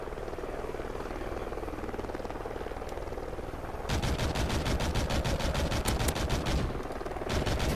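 A helicopter in Call of Duty Ghosts churns with a steady, loud rotor thrum, then rapid bursts of machine-gun fire break in over it, pause briefly and start again.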